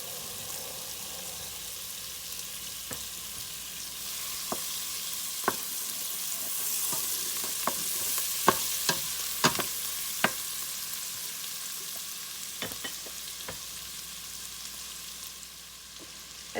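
Butter sizzles and fries steadily in a pan with onions and garlic, a soft continuous hiss broken by scattered sharp pops and crackles, with no talking.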